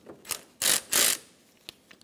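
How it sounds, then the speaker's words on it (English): Two loud rasping bursts of a ratchet turning a 7 millimeter bolt on a 2012-2020 Chevrolet Sonic bumper, close up, with faint clicks before and after. "Remove the 7 millimeter bolt."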